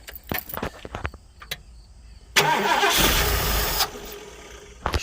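A rat rod's carbureted engine, primed with ether sprayed into the carb, cranks and fires to life with a loud, steady roar lasting over a second before cutting off, preceded by scattered clicks and knocks.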